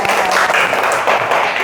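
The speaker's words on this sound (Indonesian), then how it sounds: "Tepuk tangan untuk kalian semuanya." Classroom applause for students who have just presented their group discussion, a dense and loud burst of many hands clapping together, steady throughout.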